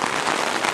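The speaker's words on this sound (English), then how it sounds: "the rain is really starting to sprinkle down now, as you can probably hear on the umbrella" Rain sprinkling onto an umbrella on a rainy day in a garden, a dense, steady patter of drops that stays close and even throughout with no talk.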